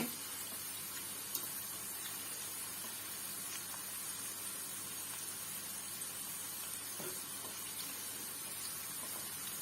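Pumpkin 65 pieces frying crisp in hot oil give a steady, even sizzle and bubbling hiss that runs close and continuous throughout, with no voices over it.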